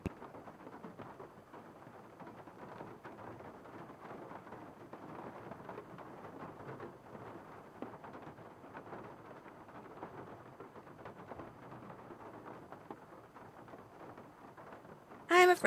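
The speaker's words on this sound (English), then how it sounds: "Because of the big storm that's blowing in." A steady wash of heavy rain with a low storm rumble runs throughout, alone and unbroken, from a thunderstorm blowing in during the Nancy Drew game Legend of the Crystal Skull. A sharp sound cuts in at the very end.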